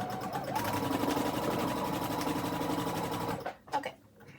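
A sewing machine runs steadily while chain piecing quilt blocks, a close, even mechanical whir that stops abruptly near the end, followed by a few light handling clicks.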